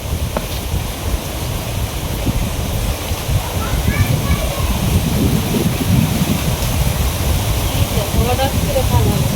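A heavy wind and rain storm at night, a dense, continuous roar of gusts and pouring rain, loud and steady throughout, with faint voices occasionally audible underneath.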